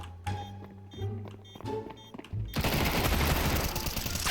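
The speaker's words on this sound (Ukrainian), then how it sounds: "чел по мені постріляв" Gunfire in Counter-Strike 2: after a few scattered game sounds, a dense, loud burst of rapid automatic shots erupts and keeps going to the end.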